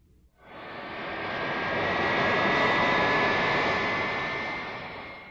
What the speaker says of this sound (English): It's a Boeing.